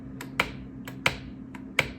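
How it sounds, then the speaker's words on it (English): Keys on an Apple keyboard attached to an eMac pressed repeatedly, three sharp clicks about two-thirds of a second apart, each trailed by a softer tap, close and fairly quiet over a low hum. "This keyboard's eject does not do anything"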